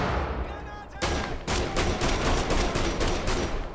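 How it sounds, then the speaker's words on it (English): Shotgun fire in Wolfenstein: The Old Blood, a burst of rapid, loud gunshots in close succession following a quieter moment. "It is a shotgun, pretty much."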